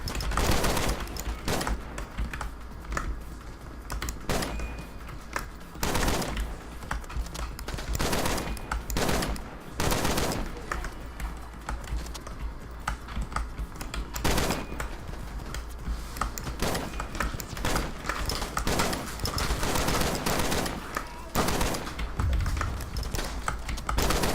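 Repeated bursts of gunfire in Shots Fired: Overkill, on The Club stage, hammer on through a long stretch, with dense, rapid shots broken by brief pauses, loud and close, and no voices.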